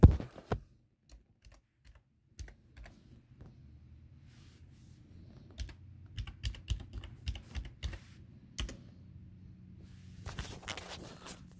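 Someone types on a computer keyboard in sparse clusters of keystrokes, then in a faster, denser burst, with quiet room tone and no speech.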